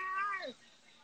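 A cat gives a single close, clear meow that slides downward in pitch and fades out within about half a second, heard on its own with no voices.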